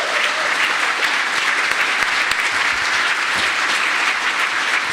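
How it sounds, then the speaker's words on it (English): Sustained audience applause after a seminar panel on drinking chemistry, dense, steady and fairly close, with no voices over it. "So I'd like a huge round of applause for our panel."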